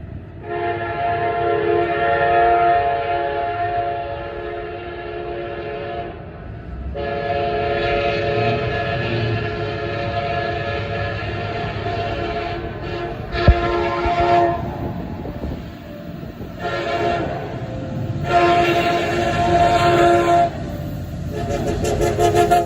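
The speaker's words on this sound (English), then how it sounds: "28R will use the PTC sequence but the engineer would eventually use the horn." A freight train passes close with its horn blowing in long loud blasts broken by short gaps, over the steady rumble and clatter of rolling railcars.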